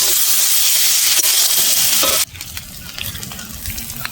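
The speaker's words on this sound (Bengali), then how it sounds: "মশলাটা ভালো করে নেড়ে চেড়ে আমি কষিয়ে নেব।" Spices with turmeric fry in a pan in a loud, dense sizzling hiss that drops abruptly about halfway, leaving quieter crackling and stirring scrapes close by.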